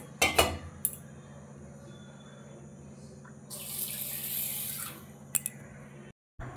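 Water poured from a cup into a pot for rasmalai sugar syrup, a steady close splash swelling midway amid faint kitchen clinks, with no talk.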